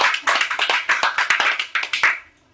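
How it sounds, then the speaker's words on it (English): A small audience claps for a performer after a stand-up comedy set, a short burst of distinct, fairly close handclaps in an uneven rhythm that fades out after about two seconds. "A massive round of applause for Harry."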